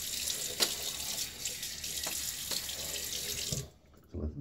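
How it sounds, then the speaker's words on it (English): Water running steadily from a tap into a sink for a shaving bowl, a close, continuous splashing hiss that cuts off near the end, followed by a brief clunk. "I could probably still add some more water"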